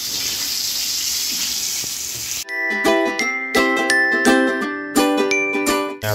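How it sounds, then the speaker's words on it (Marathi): Stuffed pomfret fish fry on a hot tawa with a steady, close, hissing sizzle for about two seconds before loud ringing music cuts in and takes over. "आता आपले हे 2 पण आता मस्तपैकी तळले जाणार आहेत ना"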